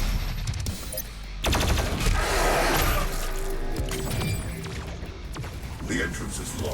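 The BFG 10,000 firing in DOOM Eternal booms as a heavy, roaring blast that swells and rumbles for a couple of seconds, amid ongoing game sounds and a voice speaking.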